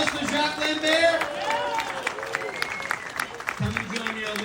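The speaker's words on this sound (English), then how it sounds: "Let's get a round of applause for Jacques Lambert." Audience applause and cheering for a contest finalist called to the stage, steady crowd clapping under a voice and a whooping cry near the end.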